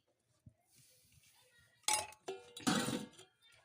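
A plate set over a clay griddle on a clay stove to cover a rice-flour chitoi pitha, a few close clinks and scraping knocks of the plate settling into place.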